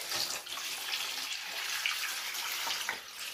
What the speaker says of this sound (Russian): Берем нашу форель полностью. Заливаем нашим бульоном.